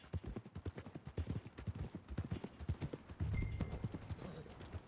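Horse hooves clip-clopping in the video game Red Dead Redemption 2, a steady rapid trot of close, crisp hoofbeats continuing throughout with a low rumbling layer joining partway.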